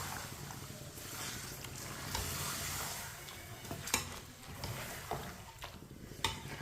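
Chicken stirred and fried in a pan for an Eid dish, with a faint steady sizzle and occasional soft scrapes and knocks of a spoon against the pan.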